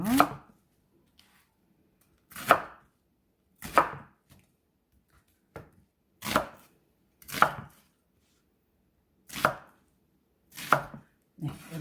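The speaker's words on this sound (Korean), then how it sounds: "양파는 두 개가 들어가는데 한 개는 이렇게 깍둑썰기를 해주세요" Repeated knife chops dicing an onion on a cutting board, about a dozen sharp thuds in uneven bursts, close and clear against quiet background.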